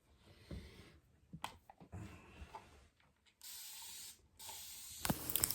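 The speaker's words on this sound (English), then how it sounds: "Can you spray a little more?" Close hissing bursts of a spray bottle of hair product, two sustained sprays near the end, preceded by clicks and handling noises.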